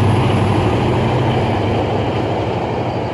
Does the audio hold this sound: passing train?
yes